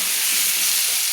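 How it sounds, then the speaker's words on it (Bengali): Cabbage with fish head frying in a pan while being stirred, a continuous bright hissing sizzle held close and steady, with no voices. "দিয়ে আমি ভালো করে নেড়ে নিচ্ছি, একটু ভেজে নিচ্ছি, লাল করে একটু ভেজে নেব।"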